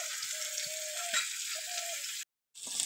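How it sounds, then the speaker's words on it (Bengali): Snakehead fish frying in hot oil for a tangy fish curry: a steady, close sizzle with a few faint clinks, then a brief drop to silence before the frying hiss returns. "মাছগুলো ভাজা হয়ে গেছে"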